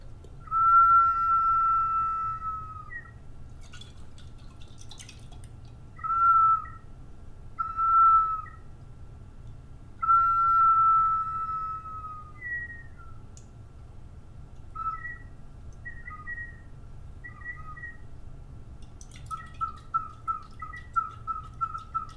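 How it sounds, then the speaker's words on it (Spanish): Pre-Columbian Ecuadorian whistle bottles sound as water moves inside them, giving a series of clear, breathy, bird-like whistled tones in short bursts and pauses, ending in a quick run of chirping notes over a low hum. "es un instrumento que funciona con la acción del agua"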